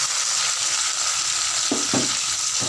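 Small shallots frying in hot oil with cinnamon, cloves, star anise and curry leaves for chicken kurma, making a loud constant close sizzle with a few low stirring thumps near the end.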